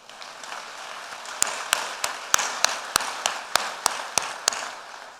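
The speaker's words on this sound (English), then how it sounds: "I think they deserve a better round of applause." A conference audience at the African Development Bank 2024 annual meetings gives a round of applause, a steady wash of many hands with a series of sharp, louder individual claps standing out at regular intervals near the microphone.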